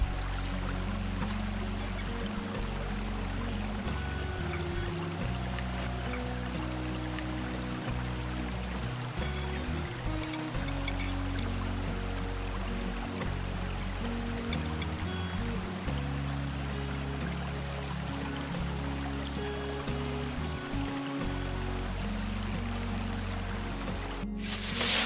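Creek water flowing steadily in the Pennsylvania wilds at a campsite, a continuous close rushing wash with low rumbling churn that holds level throughout, no voices.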